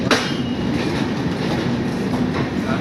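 A Humsafar Express train running on rails, heard from inside as a steady, loud rolling rumble with faint rhythmic clickety-clack and a thin metallic squeal, continuous throughout with no talking.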